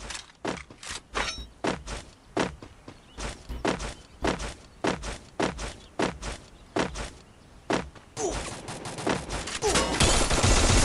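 Rapid gunfire bursts from the Free Fire video game crackle in a steady rhythm of sharp repeated shots, loud and close, ending in a denser flurry of fire.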